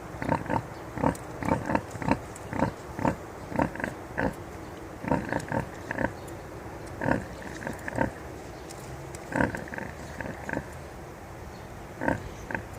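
A large black pig grunts from its wallow in a homestead pig pen, a steady series of short, close grunts and snorts repeating every second or so, with no talk over them.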